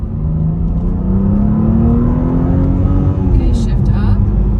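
A BMW engine revs steadily through paddle-shifted gears while driving, its loud continuous drone climbing in pitch, dipping briefly at a shift, then rising again.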